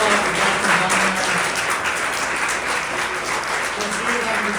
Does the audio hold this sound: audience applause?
yes